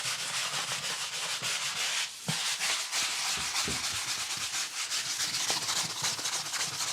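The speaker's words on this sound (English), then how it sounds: "I'm going to use one of these 80 grit sanding blocks to pull down some of these high spots" An 80-grit sanding block rubs over dried drywall mud on shed walls, knocking down high spots with quick back-and-forth scraping strokes, close and continuous with a brief pause partway through.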